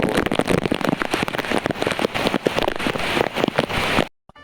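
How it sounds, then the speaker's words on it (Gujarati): Heavy monsoon rain pours down in Junagadh, Gujarat, amid street flooding: a loud, steady, dense hiss of falling water that runs unbroken for about four seconds, then cuts off abruptly. "જુનાગઢનો વરસાદ."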